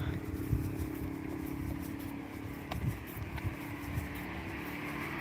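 A motorcycle goes by on a street in Japan, a low engine drone that holds steady in the background with faint traffic noise around it.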